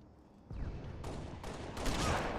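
Grenade explosions in the shooter game Halo: Reach go off as several heavy, rumbling blasts in quick succession, each boom overlapping the tail of the one before.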